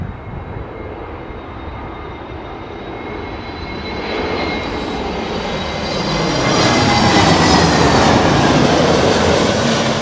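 A plane comes in to land at Heathrow in strong Storm Nelson winds. The jet roar builds steadily from a distant rumble to a loud, close whine as the aircraft approaches, with wind buffeting underneath.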